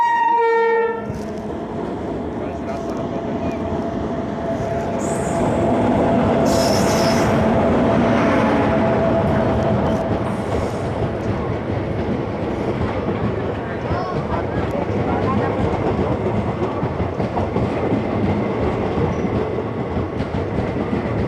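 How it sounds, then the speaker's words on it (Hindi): A small train rolls past close by, its horn blaring at the start, followed by a steady rumble of wheels and clattering cars that stays loud to the end. "छोटा ट्रेन है"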